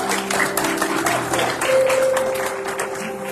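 Congregation applauding at a Sunday church celebration service, a steady wash of clapping with a sustained organ or keyboard tone entering midway.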